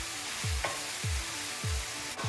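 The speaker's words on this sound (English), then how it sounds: "I'm gonna go ahead and throw all my mushrooms right on in the skillet" Mushrooms fry in a hot skillet for a vegan alfredo lasagna, a steady close sizzle broken by a few regular stirring scrapes, with no voices.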